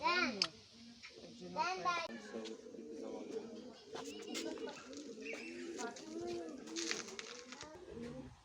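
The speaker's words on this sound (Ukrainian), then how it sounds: "Ну і голуби там всередині якісь, бачите." Pigeons coo in repeated soft throaty calls at an enclosure in Halych National Nature Park, heard close under an adult and someone talking.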